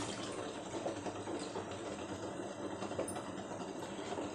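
Milk streams into a pan already holding a little water for bread halwa, a soft, continuous pouring hiss heard faintly and without interruption.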